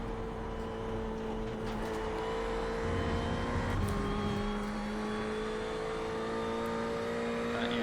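Ferrari race car in iRacing at Summit Point, engine droning steadily with smooth pitch changes through gears, sustained and loud throughout with no talking.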